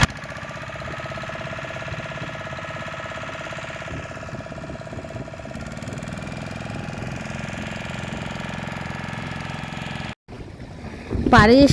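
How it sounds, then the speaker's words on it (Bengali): A motorboat engine drones steadily as the boat turns back across the river near where it meets the sea at Talsari, a close, even hum with a sudden dip and louder burst at the end. "এবার আমাদের নৌকা ঘুরিয়ে আবার ওই পাড়ে নিয়ে যাবে"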